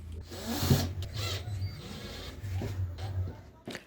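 A power driver whines in short bursts as screws are driven into rosewood pieces for a wooden tool, close and moderately loud, with quieter pauses between the runs.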